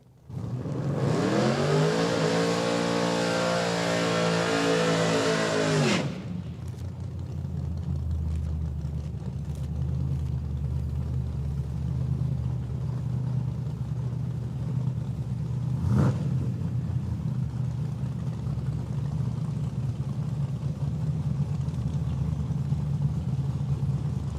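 1982 Chevrolet Camaro at a drag strip, a loud rising engine roar for about six seconds that cuts off abruptly, followed by a low rumbling idle and distant track ambience with a brief burst midway.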